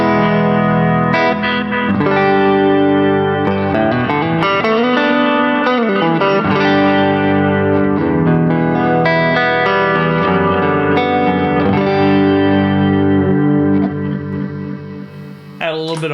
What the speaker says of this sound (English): that does my plate reverb as well as harmonic tremolo